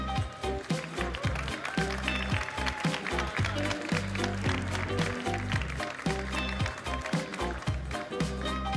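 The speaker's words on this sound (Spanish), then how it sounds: "los demás le dais un aplauso" An audience applauding at the PlayStation Talents 2016 gala: sustained, dense clapping from a crowd, mixed with loud background music throughout.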